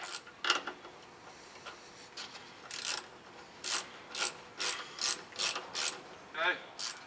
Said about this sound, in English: Now I can tighten all this up if I can find my ratchet.